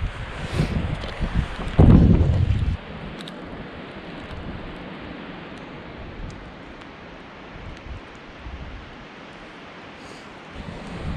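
Strong gusts of wind roar through trees on a coast, heard from a sailboat, swelling loudly early on, then settling into a steady, rushing whoosh with rustling leaves.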